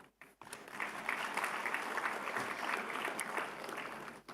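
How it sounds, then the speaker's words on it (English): Audience applause at an Asian fisheries and aquaculture forum, a steady sustained clapping from a large crowd that swells in after a brief pause and holds evenly before tapering at the end. "I hereby request all of you to applaud."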